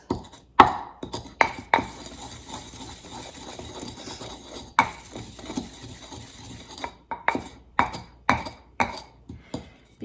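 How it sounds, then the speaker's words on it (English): Cajun seasoning spices being ground into smaller bits, heard as a series of sharp close knocks and scraping taps, irregular then quickening toward the end, with quiet stretches between, no speech. "And we're going to also grind that up into smaller bits."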